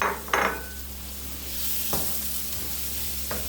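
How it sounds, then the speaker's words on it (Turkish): Minced meat sizzles in a pan for a Şanlıurfa-style ağzıyumuk, a soft steady frying hiss broken by a few sharp scrapes and clinks of a stirring utensil. "Önce kıyma kavuracağım."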